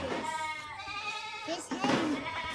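Goats bleating at a goat farm, several wavering calls close by, with people talking over and between them.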